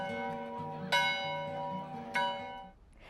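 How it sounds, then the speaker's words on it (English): A school bell rung at a high school commemoration near a bell tower sounds two clear metallic strikes about a second apart, each leaving long, ringing harmonic tones that fade slowly over a soft, sustained hum. "Talley, a 1940 graduate of Covington High, ringing the bell, heeding the words, "A bell is not a bell until you ring it.""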